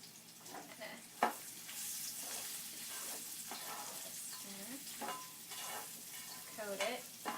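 Chopped onion sizzles in bacon fat in a home kitchen pan, a steady frying hiss with occasional stirring scrapes and clinks of a utensil, close and continuous, no talking.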